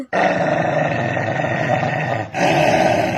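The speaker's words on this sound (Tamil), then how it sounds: "என்ன ரோட்ல இவ்ளோ நாய்ங்க படுத்திருக்கு?" Dogs growling loudly and close by on a street, one sustained snarl that breaks off briefly and resumes, with no talk.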